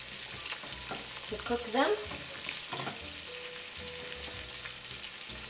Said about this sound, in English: Now with a spoon, I take from the olive oil and I scoop over the yolks